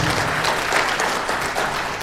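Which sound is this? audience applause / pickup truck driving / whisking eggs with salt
audience applause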